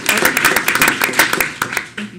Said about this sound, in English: you guys have been applauding all along